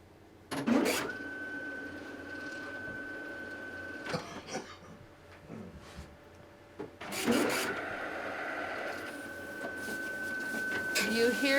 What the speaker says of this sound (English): You hear that printer over there? Every button that is pushed on the machine logs on that printer.